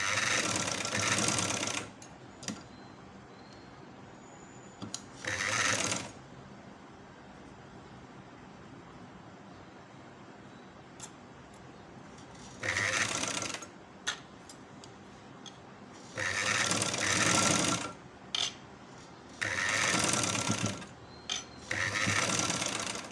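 Sewing machine stitching a child's sleeve, running in several short bursts of a few seconds each separated by quiet pauses with faint clicks, fairly close and not loud.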